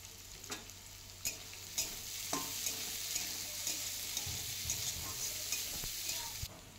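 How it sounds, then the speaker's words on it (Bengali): Potato pieces fry slowly in hot oil with turmeric, giving a steady, soft sizzle. A utensil clacks and stirs through them at irregular intervals. "আলুগুলোকে খুব বেশি টাইম নিয়ে ভাজবো, যেন আলুগুলো ভাজতে ভাজতে সেদ্ধ হয়ে যায়।"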